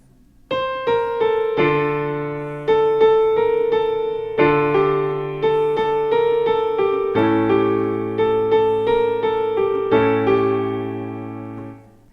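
Piano chords with a melody line from a pop song, a series of struck chords played at a moderate pace, each ringing and decaying before the next, alone.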